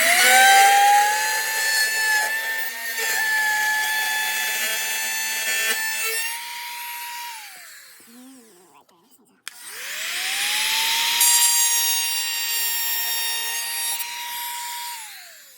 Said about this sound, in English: So notice how we just used the router to clean the line up.